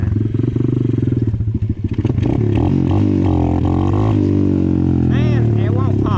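A dirt bike's engine revs hard and unevenly, rising and dropping in pitch, with loud, close, throaty bursts while the rider pulls wheelies; a voice briefly calls out near the end.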